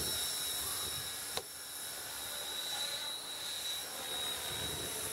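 A radio-controlled model helicopter flies at a distance, its faint, steady whine and hiss holding throughout, with one brief sharp click near the start and no voices.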